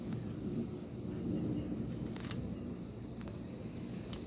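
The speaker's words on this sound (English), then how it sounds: "Now it's raining Now faster. it's raining again." Rain pours steadily during a thunderstorm, a dense continuous hiss and patter with a low rumbling undertone, heard close and fairly loud throughout.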